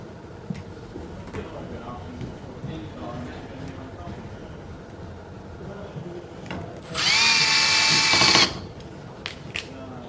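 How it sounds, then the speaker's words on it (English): A power drill whirs in one loud, steady burst of about a second and a half while equipment is assembled and a back plate is secured, set against quiet room noise. "I'm going to use drills just to make it faster"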